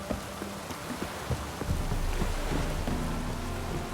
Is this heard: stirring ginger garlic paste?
no